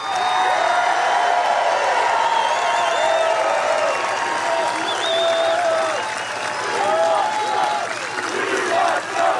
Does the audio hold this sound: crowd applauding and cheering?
yes